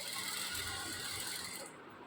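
A sewing machine runs a seam along the lining of straight pants, a steady close mechanical whir of needle and feed that stops abruptly near the end.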